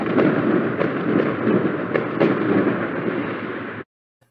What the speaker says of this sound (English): let's see the fireworks